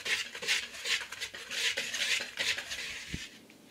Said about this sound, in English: And just go ahead and whisk this together here quick.